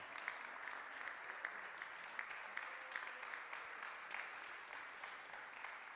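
Spectators at a para shooting world championship, women's 10m air pistol SH1 in Lima, give a steady round of applause for an athlete, soft and distant in a large hall, with a few sharper individual claps standing out.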